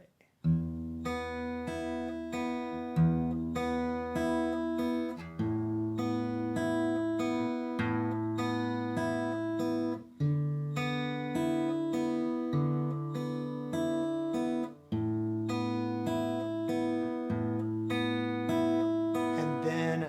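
A fingerpicked guitar rings out open-string notes in a steady, flowing pattern, sustained and resonant, played alone at moderate volume.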